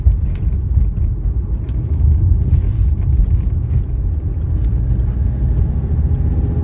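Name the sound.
1983 Mercedes 300D diesel car driving on road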